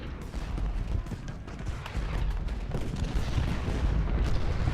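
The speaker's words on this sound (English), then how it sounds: "That artillery was just too much." Artillery and massed gunfire roar from a Civil War battle in Ultimate General Gettysburg, a dense, continuous rumble of booms and cracks that stays loud and builds slightly toward the end, with no voices over it.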